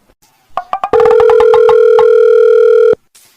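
Placing a phone call: a few quick keypad beeps are followed by a loud, steady electronic tone that holds for about two seconds and then cuts off abruptly.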